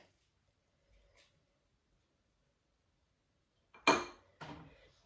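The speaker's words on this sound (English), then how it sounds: "You can pop your fork into different parts of the lemon and then just twist" A fork is twisted into a lemon, making two short, close scraping clinks near the end after a long near-silence broken only by a faint tap.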